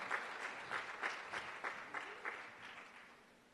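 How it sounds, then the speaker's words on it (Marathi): Church congregation at a Sunday service clapping to welcome the senior pastor, a run of rhythmic group claps in regular beats, fairly distant and soft, fading out toward the end. "Let us clap our hands and let's welcome our senior pastor"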